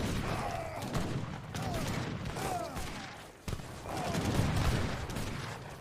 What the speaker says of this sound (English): watching units fly from the cannon volleys